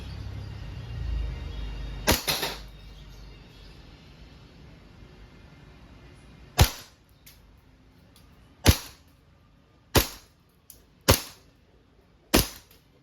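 A WE Airsoft 5.1 Type K pistol fires six sharp, loud semi-automatic shots, one early and then five in a spaced, fairly even sequence with quiet gaps between.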